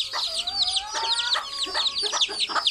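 Several chickens cluck in a busy, overlapping chorus just after being driven into their coop, with steady close calls throughout and no talking.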